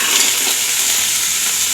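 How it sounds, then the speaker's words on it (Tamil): Green lentils are stirred in a hot frying pan, giving a loud, steady sizzle and hiss with soft scraping as the spoon moves through them, with no voices. "இப்போ இதை அப்படியே கிண்டி விட்டுருங்க."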